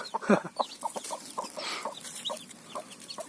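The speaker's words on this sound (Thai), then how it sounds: "เป็นแม่ไก่สองตัว ช่วยกันเลี้ยงลูก" Two mother hens raising chicks together cluck repeatedly in short, irregular bursts close by, soft murmuring clucks with an occasional sharper call, no talking.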